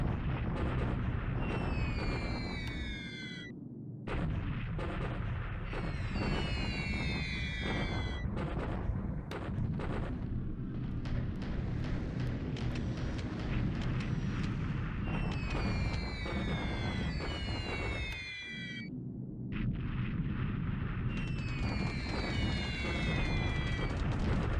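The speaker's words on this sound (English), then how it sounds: "Bombing these troops at Pakoi." Sustained, dense rumble of bombs and artillery blasts in a WWII strategy game, with troops being bombed, loud and continuous, broken by short gaps and repeated rising and falling whistle-like tones of falling bombs.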